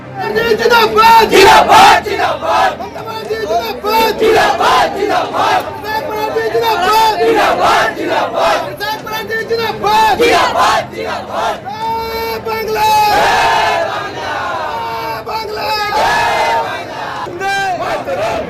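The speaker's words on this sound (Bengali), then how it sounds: "অর্জুন সিং এর বাড়ির সামনে জয় বাংলা স্লোগান তৃণমূলের" Crowd of Trinamool supporters chanting the political slogan Joy Bangla in front of Arjun Singh's house in Jagaddal, loud, continuous rhythmic shouting with overlapping voices throughout, peaking mid-way.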